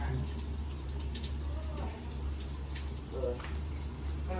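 Water runs steadily while a washing machine tub is being rinsed and cleaned, a constant hiss with faint splashes and brief voices in the background.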